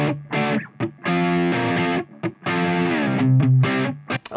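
Electric guitar with softened, less extreme distortion after EQ, playing sustained chords and notes in phrases with short gaps, loud and up close with no talking.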